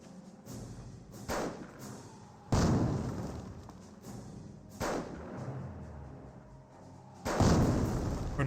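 British mortar or artillery barrage in Company of Heroes, with several heavy booming impacts spaced a couple of seconds apart, each a loud thud followed by a rumbling decay over quieter battlefield ambience.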